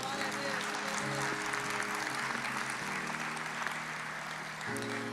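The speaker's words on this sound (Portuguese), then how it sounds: "Vamos aplaudir ao Senhor." Church congregation applauding in a steady, moderate wash of clapping, heard from a distance under sustained organ-like tones and faint voices.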